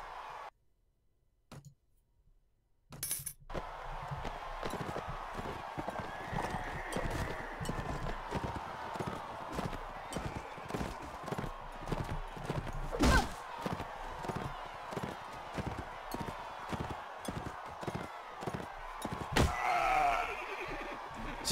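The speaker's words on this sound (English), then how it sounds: "Just running into the horses that are the problem." Horses galloping in the Mount and Blade video game, a steady rapid clip-clop of hooves running throughout with occasional sharp impacts over continuous battle noise; no clear neighing stands out.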